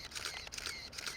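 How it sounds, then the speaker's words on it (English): Film camera shutter release pressed on a body with an auto-loading spring, giving a few soft mechanical clicks and whirs, quiet and close with no voice. "I'm going to push the shutter button."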